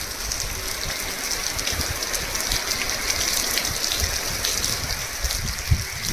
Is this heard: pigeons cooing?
no